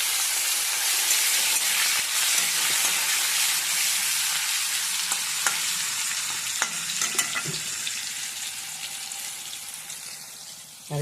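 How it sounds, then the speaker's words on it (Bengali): Tomato and cumin frying in a pan, a continuous loud sizzle with occasional clinks of a utensil stirring, steady throughout with no talk. "একটু ভেজে নিতে এই দেখো।"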